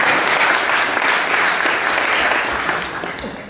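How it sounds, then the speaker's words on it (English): An audience at a wedding reception applauds in a steady, dense wash of clapping that carries on loudly and then begins to fade near the end. "Phil, don't clap yourself."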